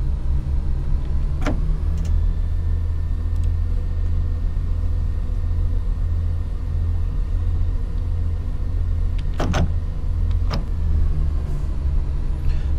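Inside the cab of a Class 170 diesel train in the video game Train Sim World, the Fife Circle route, a low engine rumble drones steadily and quietly, with a few brief clicks and knocks above it.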